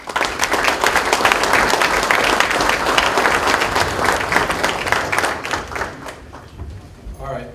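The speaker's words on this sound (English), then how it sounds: "Round of applause for their support." An audience at a police department awards ceremony claps together, loud and dense at first, then slowly thinning and fading out toward the end.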